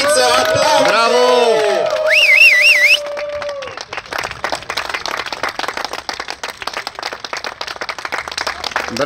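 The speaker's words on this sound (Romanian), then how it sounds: "Aplauze! Bravo!" Audience applause at a national supermoto championship award ceremony, crowd cheering and whistling first, then dense rapid clapping from many people that continues steadily, fairly close and loud.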